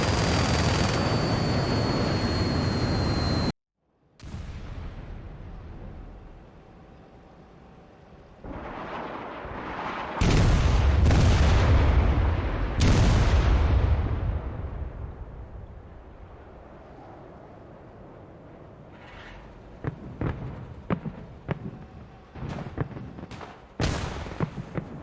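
Heavy explosions from aircraft stores detonating in the IL-2 Korea flight combat game, with several deep, loud booming blasts rolling into long rumbling decays, then a scatter of sharper, closer cracks near the end.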